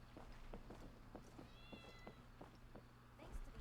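A small cat in the Genshin Impact video game gives a short, faint meow with a rising, wavering tone, heard over a steady game soundtrack with soft rhythmic clicks.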